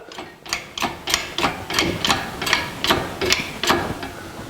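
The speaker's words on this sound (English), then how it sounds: "that'll give me room to put a ratchet on that last bolt that's holding the gear shift in" A ratchet clicks steadily in short repeated bursts, about ten even strokes, while loosening the last bolt holding the gear shift on a 1982 Jeep CJ7 during engine and transfer case removal; close and moderately loud, with no talking.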